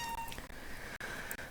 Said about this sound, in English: My cat is very needy right now.